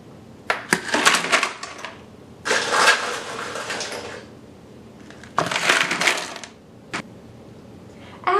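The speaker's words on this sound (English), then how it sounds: "Continue this process of layering the ice and salt until it reaches the drainage hole on the side" Ice and salt being layered into an ice cream maker bucket: three loud bursts of crunching, rattling ice pouring in, separated by short pauses and a few single clinks, with no talking.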